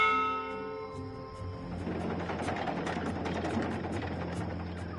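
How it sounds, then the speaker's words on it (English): A ship's bell rings on a cloud ship in the Dreamfall Chapters video game, a sustained resonant tone that fades under a steady mechanical engine-like hum and ambient noise. "this is a ship's bell"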